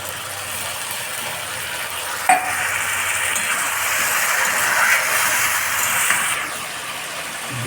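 Kochu loti (taro stolons) with prawns sizzle steadily in hot oil in a pan, a continuous close-up crackling hiss with one brief sharp clink early on and no voices.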